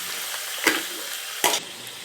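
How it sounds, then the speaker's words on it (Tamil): Chicken pieces sizzle in a frying pan with turmeric, stirred twice with quick, distinct scraping strokes over a steady close frying hiss. "பாருங்கள் ஃப்ரெண்ட்ஸ், சிக்கன் நல்லா ஃப்ரை ஆகிட்டுருக்கு."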